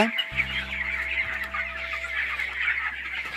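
Farm chickens in a poultry box cluck and murmur steadily, a dense chorus of many birds close by over a low constant machine hum.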